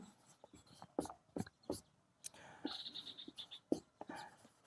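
A pen scratches across paper in short, quiet strokes during a class 9 maths lesson, with faint, soft speech around the writing.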